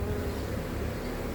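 Swarm of honeybees gathering at a cardboard box, a loud, continuous close-up buzzing hum with no pauses.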